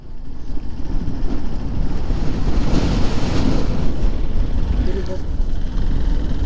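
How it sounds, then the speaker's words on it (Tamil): Strong wind roars steadily and loudly into the microphone at the Kaluga Malai hilltop viewpoint, a constant buffeting rush filling the whole clip. "சரியான காற்று வர அடிக்குது பத்தாத்துக்கு."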